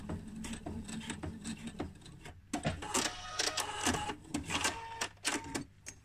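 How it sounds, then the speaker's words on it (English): A sewing machine runs a line of stitching along the edge of a skirt pocket, with short bursts of rapid mechanical clatter separated by brief pauses, faint and close. "I'm just going to run one line of stitching up until the edge of that pocket finishes."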